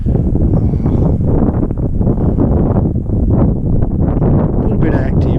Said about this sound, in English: Wind's blowing a little bit